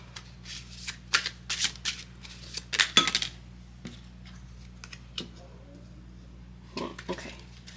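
Tarot cards are shuffled by hand in quick rustling, flicking bursts, close and crisp, with quieter pauses between them.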